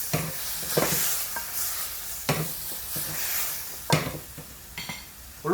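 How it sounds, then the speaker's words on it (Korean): Blanched bok choy and cooked meat stir-fried with oyster sauce seasoning in a hot pan, a steady sizzle broken by several sharp scrapes and clanks of a utensil against the pan, close and alone. "양념이 골고루 섞일 때까지만 볶아주면 돼요"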